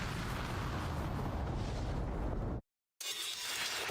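A bomb blast in the shoot-'em-up Sonic Wings Reunion on PC: a loud, sustained explosive roar of about two and a half seconds that cuts off abruptly to brief silence, then a further noisy game burst follows.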